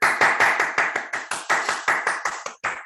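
Someone claps their hands alone, about a dozen sharp, evenly spaced claps in a steady rhythm, close and fairly loud with no talking.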